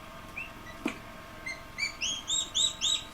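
Turkey poults chirp in a brooder, giving a run of bright, rising peeps that start sparse and quicken into a steady, fairly close series near the end.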